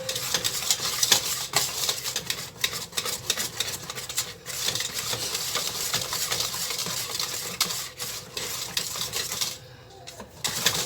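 A spoon or whisk stirs black pepper into a pan of white pepper gravy, a continuous busy scraping and clinking against the pan, close and fairly loud throughout.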